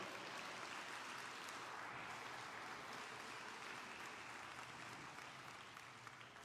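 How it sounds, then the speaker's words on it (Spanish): A church congregation applauds, steady dense clapping that stays even throughout and fades slightly at the end, heard at a moderate distance with no speech over it. "Denle el aplauso al Señor."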